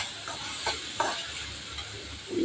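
Tomatoes and spices sauté in a pan for tomato sevai, giving a soft continuous sizzle broken by a few scraping stirs of a spoon against the pan. The sound is close and moderate, with no talk.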